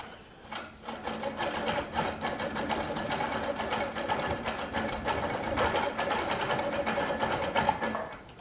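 A Baby Lock Regent sewing machine runs steadily through ruler-work stitching, a continuous close whirring and rapid needle clatter that holds for the whole stretch with no talk.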